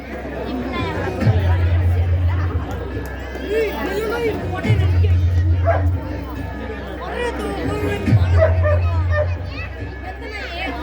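Dogs bark in short bursts at an outdoor pet dog show during the Suruli Saral festival, with three louder bark clusters standing out over continuous crowd chatter and someone talking throughout.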